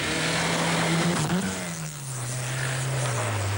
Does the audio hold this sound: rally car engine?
yes